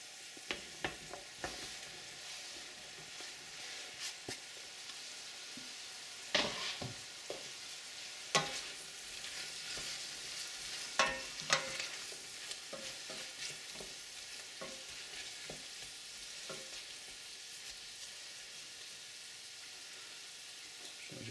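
Chopped vegetables fry slowly with onions in a pan for a lasagne, a soft steady sizzle with occasional louder stirring scrapes and clinks, fairly quiet throughout.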